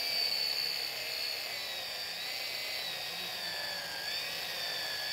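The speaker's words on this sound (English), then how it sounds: "screw it, get the grinder." A power grinder whines at a high, steady pitch on a building site where a base is being installed, its tone wavering slightly as it works, with no voices.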